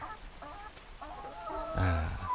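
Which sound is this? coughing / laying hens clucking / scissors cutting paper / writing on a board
laying hens clucking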